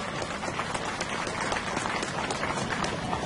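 Crowd applause for a singer at an outdoor patron-saint fair song festival, a dense, even wash of clapping and crowd noise sustained throughout, moderately loud and somewhat distant.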